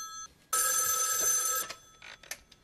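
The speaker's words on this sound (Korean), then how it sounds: "수상한 전화벨이 울리기 시작합니다" A telephone bell rings in one sustained, loud burst of about a second, followed by a few faint clicks and short noises.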